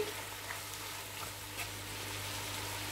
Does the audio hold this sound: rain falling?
no